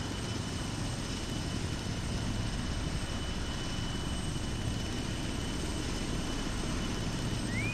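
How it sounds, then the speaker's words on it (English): A steady, droning helicopter rotor and engine roar fills the scene continuously, loud and unvarying throughout, in the video game Arma. "fucking tinnitus from all this helicopter noise"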